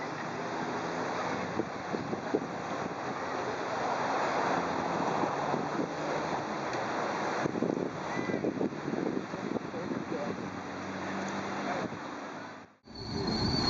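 Steady surf rolls in at a pristine Australian beach, a broad continuous wash of waves heard from nearby under gusty wind noise on the microphone, with no clear talk.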